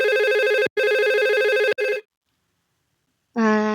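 Simulated telephone ring on an IP phone during a VoIP call set up in Cisco Packet Tracer, with two steady electronic rings in a row, a third cut short, a brief pause, then another ring starting; loud and close, with no talk.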